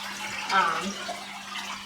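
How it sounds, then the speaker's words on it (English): Water splashes steadily from a small waterfall feature in a home aquarium that needs topping off, making it noisier than usual. The splashing is a constant close rush, and a faint voice sits beneath it. "Here, a nice little waterfall. Actually, this one needs, again, a water top off, and that's why it's making so much noise."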